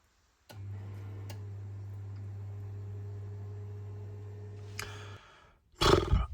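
A gas boiler burner ignites with a click and settles into a steady low humming roar for several seconds, then cuts out and is followed by a short louder burst.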